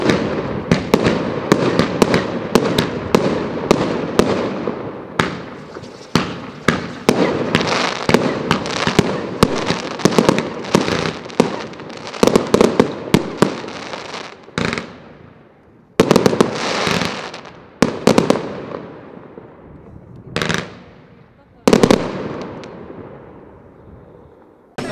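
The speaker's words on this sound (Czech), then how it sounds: "A současně už tak trošku oslavíme ten příchozí nový rok, že uděláme ten ohňostroj." Fireworks bursting at a neighbourhood New Year gathering in Dolní, a dense rapid barrage of loud cracks and booms that thins out into scattered separate blasts with short pauses between them.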